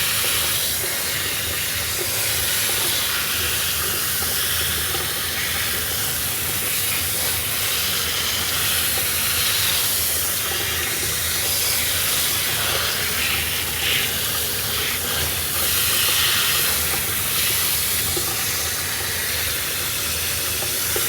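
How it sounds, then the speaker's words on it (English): Steady hissing water spray rinses a dog's leg during a grooming session, a continuous close spray running unbroken throughout with no pauses. "we're going to rinse this one section until it runs clear, and then we're going to move up"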